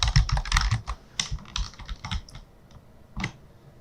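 Quick, light keystrokes on a computer keyboard enter a link, a dense flurry at first that thins into scattered taps and a final single press, close and unaccompanied by speech.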